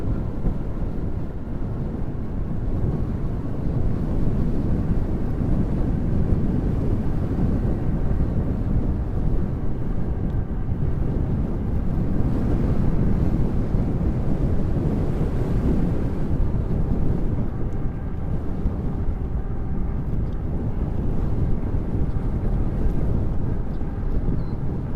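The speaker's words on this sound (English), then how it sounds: "Back into the wind again." Steady, heavy wind rushes and buffets against the microphone while riding into the wind on a battery-powered ride, a constant roaring broadband noise with no voices for the whole stretch.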